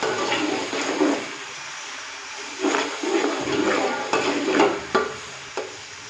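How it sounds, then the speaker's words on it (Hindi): A ginger, garlic and green chili paste fries lightly in a pan while being stirred, soft sizzling under repeated scraping strokes of a spoon that come in uneven bursts. "अच्छे से मिक्स करेंगे और हल्का सा इसको फ्राई करेंगे।"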